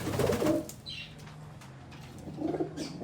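Pigeons cooing nearby in low, throaty bursts at the start and end, with a brief flutter of wings between them.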